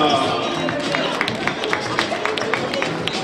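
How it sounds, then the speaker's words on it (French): An audience at a makeover fashion show applauds a model, giving a steady patter of many hands clapping together, moderately loud and continuous for a few seconds. "Applaudissements pour Linda."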